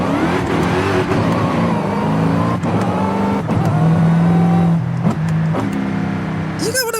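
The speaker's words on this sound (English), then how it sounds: "the supercharger is pretty loud, but it sounds very off compared to the sound of the supercharger in real life" A supercharged Dodge Hellcat engine in Forza Horizon 5 revs hard through a run of very quick gear changes, with a steady loud engine drone broken by short dips at each shift and a faint voice underneath.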